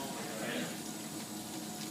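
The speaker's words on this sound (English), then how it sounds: "we're going to just turn on the water and wash it down the drain" Water runs from a sink tap in a commercial dishwashing area, rinsing foam residue down the drain, a steady soft wash of flow throughout with background noise.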